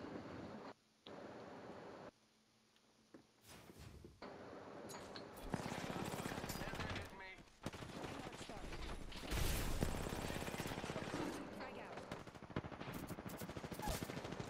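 Gunfire during an Apex Legends match: bursts of rapid automatic shots and single cracks, loud and close in places, separated by quieter gaps and ambient noise, with no talking.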